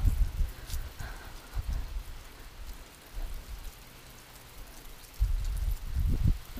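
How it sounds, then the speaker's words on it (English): Soft, steady rain patters nearby, quiet and continuous, with a few low gusty rumbles now and then. "It's raining, y'all."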